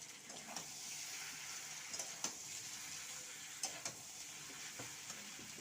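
Vegetables stir-fried in a pan for prawn biryani, a steady hiss of frying with scattered scraping and clinking accents from stirring, fairly quiet and with no voices.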